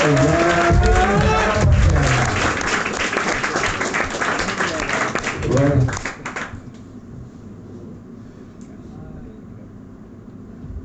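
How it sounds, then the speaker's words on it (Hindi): Applause and cheering from a club audience welcoming a woman performer to the stage, loud and dense for about six seconds before dropping away to quiet room tone, with voices mixed into the clapping. "तालियां बजाने की आदत डाल दो मेरी जान।"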